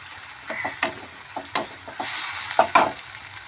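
A spiced snack mixture being stir-fried in a pan: steady frying sizzle under a few sharp scrapes and taps of a spoon stirring against the metal, close and moderately loud, with no talking.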